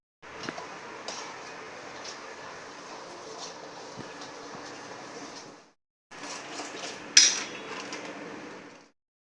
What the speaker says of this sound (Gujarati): છાશમાં પહેલા રવો આપણે હાથથી નાખી ધોઈ નાખીએ.